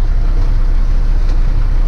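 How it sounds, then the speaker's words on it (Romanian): Strong wind buffets a truck parked outside in New Zealand while rain falls, making a loud, steady, close roar with no break. "ce bate vântul aici și plouă"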